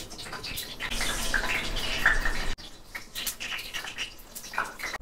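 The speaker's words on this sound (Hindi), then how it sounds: "अब मैं पकोड़े फ्राई करने लगी" Pakora batter sizzling in hot oil in a frying pan, a steady close hiss and crackle with bubbling pops that drops suddenly halfway, then continues softer and more irregular.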